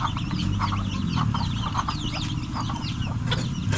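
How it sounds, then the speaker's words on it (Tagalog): A crowd of ducklings peeps and chirps continuously, dense overlapping calls over a low background rumble, on a farm. "Yung mga bibe maliliit talaga"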